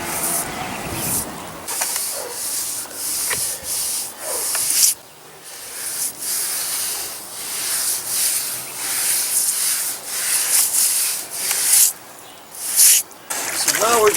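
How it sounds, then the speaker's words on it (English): A sponge rubs and wipes across fresh concrete on repaired steps in steady, close scraping strokes with brief pauses, while a voice talks intermittently. "So now we're just sponging it off, flattening it out."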